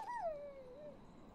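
A dog whimpers while caught in a trap in the horror video game Maid of Sker, one long, high, wavering whine that slides downward and fades, close and alone.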